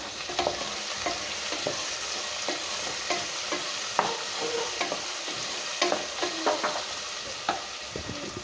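Tomato and vegetables for a veg pulao fry in a hot pan, a steady close sizzle broken by frequent scrapes and clicks of a spoon stirring, with no voices.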